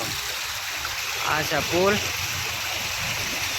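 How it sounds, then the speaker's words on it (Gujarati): Swollen floodwater from heavy rain rushes beneath a large bridge near Palitana, a steady broad roar of moving water filling the clip while someone talks over it. "જો કેટલું પાણી આવ્યું."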